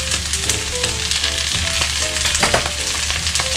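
Noodles with softened cabbage and pork offal sizzle loudly on high heat in a pan, a dense steady frying hiss with stirring scrapes and clinks, no talking.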